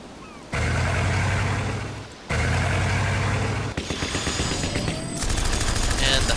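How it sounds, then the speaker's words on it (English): Dense, sustained gunfire rattles in the strategy game Battle Worlds: Kronos as units fire on an infantry bot, in loud continuous bursts over a low engine-like rumble. "And we're going to shoot this infantry bot."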